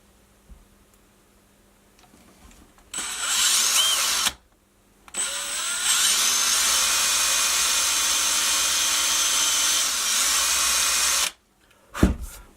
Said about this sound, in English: Also try to keep the right angle of the drilling machine